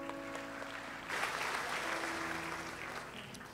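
A church congregation breaks into sustained clapping after a sermon prompt, the applause swelling suddenly and holding steady for a few seconds before tapering slightly, with faint organ or keyboard tones sustained beneath.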